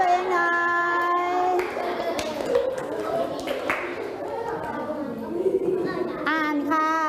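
Primary school children in an online Thai lesson clap for themselves, scattered claps mixed with a teacher's voice and children's chatter throughout, ending in sung or chanted tones.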